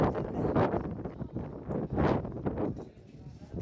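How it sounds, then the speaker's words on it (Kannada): Gusty wind rushes and buffets the microphone in uneven surges, with a louder blast about halfway through. "ತುಂಬ ಗಾಳಿ"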